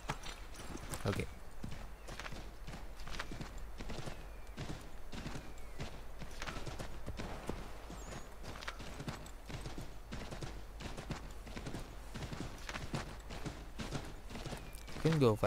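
Steady clip-clop of horse hooves walking at an even pace in the video game Assassin's Creed III, with a constant background hum and no talking.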